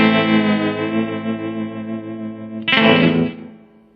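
A Gretsch Electromatic G5420 electric guitar with Alnico pickups plays on the bridge pickup. A sustained chord rings with reverb, a fresh strum cuts in near the end, and then the sound fades out.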